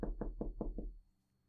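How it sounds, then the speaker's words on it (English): Five sharp knocks on the door of a family-run shop land in a quick, even series, close and crisp, each with a short resonant thud, and then quiet follows. "knock on the door."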